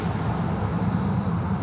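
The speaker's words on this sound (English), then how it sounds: "we've got a DHL pushing back too on the freight apron base" A DHL freight aircraft pushing back on the freight apron at Sydney Airport, a steady low engine rumble and drone heard from a distance with no other sounds.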